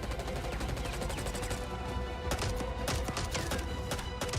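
Rapid pistol gunshots from a video game trailer with an extended magazine, a fast string of sharp cracks over a loud, dense soundtrack.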